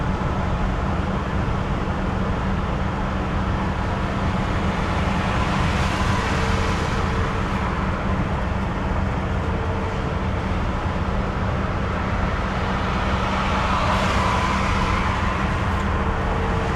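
A car cruising in fifth gear on a road across Crete, from Heraklion toward Agios Nikolaos, giving a steady, continuous engine and road rumble with tyre noise at an even level throughout.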